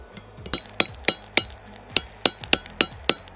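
Rapid, ringing hammer blows on hot steel while a forged spearhead's fanned stock is rolled into a socket, about a dozen sharp metallic strikes in a steady rhythm, close and loud with no voices.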